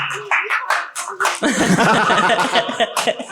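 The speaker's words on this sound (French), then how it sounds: "Et par applaudissement, qui n'aime pas?" Live audience clapping in response to a question about disliking local produce, a dense burst of hand claps with laughter mixed in, preceded by a moment of talk.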